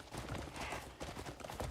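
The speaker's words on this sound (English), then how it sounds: "I guess we're just gonna call the horse" Horse hooves clip-clopping in the video game Crimson Desert, a steady, fairly close rhythm of hoof strikes over a dense background of game music and ambience.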